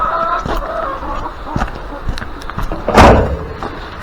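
Hens cluck in short bursts nearby, with scattered thumps and a loud clatter partway through.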